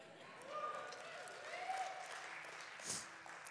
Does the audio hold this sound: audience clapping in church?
yes